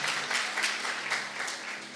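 A church congregation applauds during a worship service, a dense, steady patter of many hands clapping throughout, fairly loud and continuous with no voices on top.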